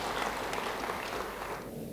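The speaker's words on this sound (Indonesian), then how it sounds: "beri tepuk tangan bagi dia" A church congregation at an Indonesian service applauding together, a dense, steady wash of clapping that fades slightly toward the end.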